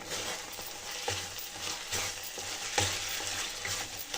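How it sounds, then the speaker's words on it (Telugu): Sweet poha being stirred with ghee in a hot pan, a soft steady sizzle overlaid by rhythmic scraping strokes of a spoon about every half second. "ఈ నెయ్యినంతా బాగా కలుపుకోవాలండి."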